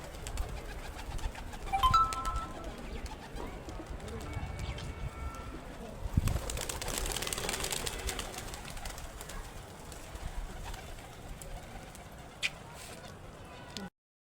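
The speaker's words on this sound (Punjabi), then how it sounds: "ਤੇ ਆ ਮਿੱਤਰੋ ਆਪਣੇ ਥੱਲੜਲੇ ਕਬੂਤਰ ਆ" Domestic pigeons coo near a rooftop loft, soft low calls repeating under a person talking, with brief wing flutters and rustling.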